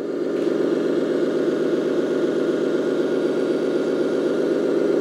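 The onboard sound unit of a 10x10 RC hydraulic crane dumper truck plays a simulated engine, a steady, even idling rumble that holds at constant loudness throughout with no other sounds.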